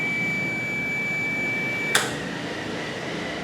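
Continuity tester on a motorcycle ignition circuit: a steady, thin electronic tone holds for about two seconds, then cuts off sharply with a small click as the ignition switch circuit changes, leaving only faint background hiss.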